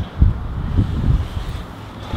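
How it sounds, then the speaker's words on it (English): Wind blows outdoors beside a garage where tractors are worked on, a steady low rumble with gusts buffeting the microphone and no talking. "Sorry, it's a little windy today."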